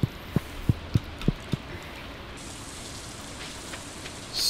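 In the video game Stardew Valley, rain falls as a soft, steady hiss under a few dull, evenly spaced thumps early on, fairly quiet throughout and without voices.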